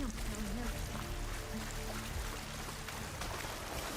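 Rushing water in Horizon Forbidden West, a constant hissing, splashing flow running beneath a faint tonal hum, steady and moderately quiet for several seconds.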